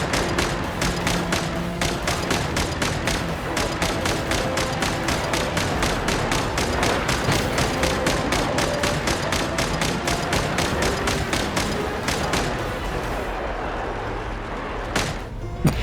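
Rapid, steady turret gunfire in Genshin Impact, a dense stream of evenly spaced shots that runs loud and continuous before cutting off near the end.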